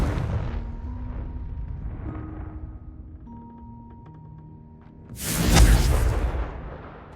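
A Confringo fire spell explodes in Hogwarts Legacy as a loud burst of broadband blast that swells and rolls off. It is preceded by softer game ambience with tonal magical hums.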